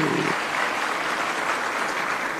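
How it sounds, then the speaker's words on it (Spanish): Steady, dense applause from a large audience of travel agents at a trade gathering, loud and continuous throughout, with no pauses. "Sí, un aplauso."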